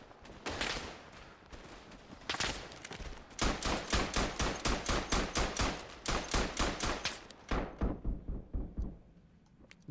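Semi-automatic pistols fire in the World War I shooter game Verdun. Sharp, loud shots come in rapid bursts of evenly spaced cracks with short pauses between volleys, and the shots end abruptly.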